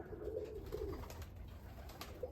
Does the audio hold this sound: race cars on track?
no